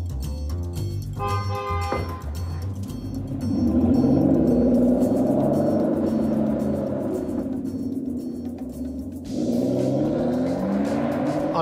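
An Aston Martin sports car engine at the St Athan plant revs up loudly and close, its roaring note rising and holding, easing off, then surging again.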